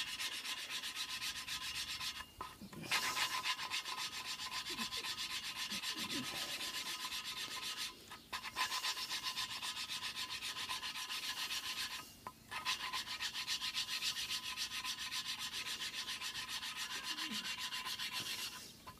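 Valve lapping on a Peugeot 207 HDi cylinder head: a steady, close gritty rubbing of the valve against its seat, broken by brief pauses at about 2.5, 8 and 12 seconds, with no talk.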